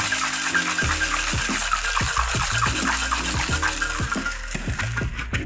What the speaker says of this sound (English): Now we're gonna add 1 scoop of crushed ice. Shake it for no more than 10 seconds.